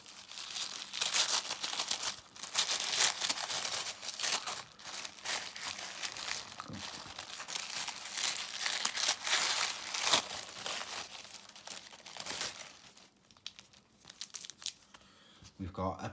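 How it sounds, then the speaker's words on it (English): Close, continuous paper rustling and crinkling from handling mail, with crackles and tearing-like crunches that go on for most of the clip before easing off near the end. "Sorry for the rustling of the paper as well."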